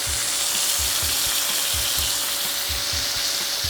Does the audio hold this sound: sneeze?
no